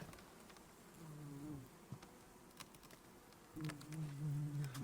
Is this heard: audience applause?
no